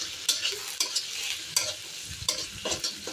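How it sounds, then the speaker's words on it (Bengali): Prawns fry in a pan with spices in a village kitchen, a close, steady sizzle broken by repeated scraping stirs at an uneven rhythm, with no voices. "একটু ভাজা ভাজা করে নিই"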